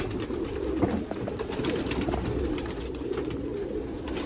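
Young flying pigeons, bred as long-endurance fliers, coo steadily throughout, a low murmuring chorus of several birds close by with no talk.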